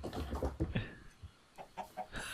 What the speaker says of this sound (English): Got 10 chickens or so.